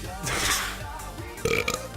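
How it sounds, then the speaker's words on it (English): A short, wet burp rises out of a brief stretch of muffled vocal noise, close and fairly loud, ending in a couple of quick bursts. "I was going to cover the burp there"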